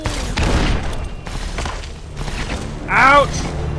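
A booming in-game explosion from a thrown charge in a Western Wastes shooter, with a burst of low rumble and gunfire, while someone talks over the action throughout.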